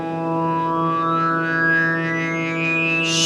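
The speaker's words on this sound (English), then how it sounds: "whereas a slow or maximum attack time might sound something like this" Synthesizer note on a Korg MS-10 with a slow, maximum filter attack, a steady buzzy harmonic tone whose brightness rises gradually over several seconds with a gliding overtone, swelling brighter near the end.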